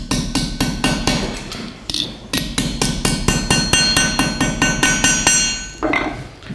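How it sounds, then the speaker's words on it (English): A hammer strikes relatively thin sheet metal to crease a fold in a metal studio. Rapid, sharp, ringing blows repeat in a fast, steady rhythm with two brief pauses. The hits are loud and close, and nobody speaks. "And then I'm just going to take a hammer and crease the fold."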